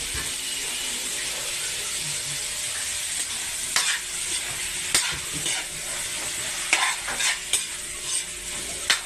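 Onions and garlic sauté in hot oil in a pan, an even close sizzle punctuated by several sharp scrapes and knocks of a spatula being worked through them, without speech.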